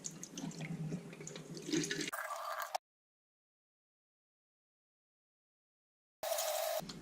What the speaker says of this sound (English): Now I'm going to throw that water out and rinse it in cold water.